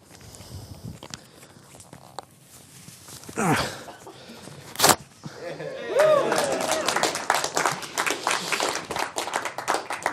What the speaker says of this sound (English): I'll need a big round of applause if this works.